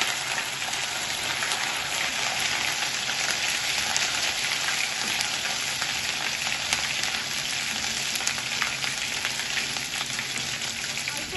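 Ginger and garlic fry in a pan with a steady, close, crackling sizzle that holds evenly throughout, with no voices over it.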